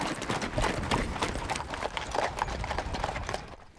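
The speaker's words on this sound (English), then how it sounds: "Back on the move, the horses pick up the pace," A herd of horses on a horse drive moves at a quickening pace, their hooves making a dense, continuous clatter of overlapping clip-clops at moderate distance.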